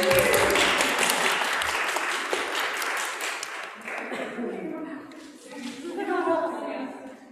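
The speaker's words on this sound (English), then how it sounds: "It's okay, you can clap for her." A congregation at a Truth and Reconciliation Sunday church service claps loudly at first, then the applause fades away, and a voice speaks over the quieter tail.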